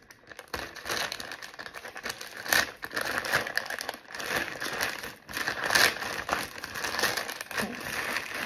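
A plastic Temu parcel is torn open by hand, with irregular bursts of crinkling and rustling and a few sharper rips, close and fairly loud, without talk.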